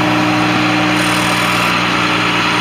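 An air compressor runs on a 2007 Ford F750 truck with a 25,999-pound GVWR, giving a steady, loud mechanical drone with a constant hum and no pauses.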